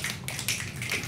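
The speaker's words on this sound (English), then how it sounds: "Can any of you not snap your fingers?" A few sharp finger snaps in a classroom, irregularly spaced, crisp and close, with no talking.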